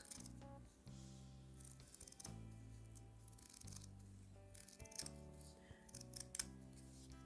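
Scissors snip and slide through a longer piece of jewelry wire in repeated close, crisp cuts with short pauses between them, nearby and quiet with no talking.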